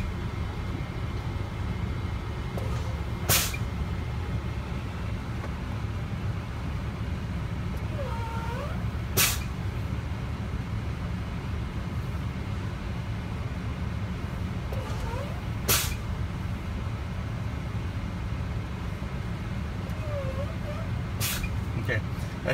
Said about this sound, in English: you can pump them again